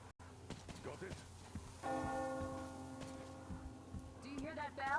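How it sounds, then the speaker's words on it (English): A church bell rings out in a video game, a sustained resonant toll swelling and fading over a few seconds amid game ambience, with voices speaking around it. "Do you hear that bell?"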